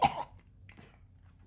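A single person imitates a cough, giving one loud, close, harsh burst, then a quiet stretch.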